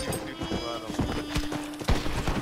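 Horse hooves clip-clop in a video game, a quick run of uneven thudding steps heard close, with a low steady tone and some background noise.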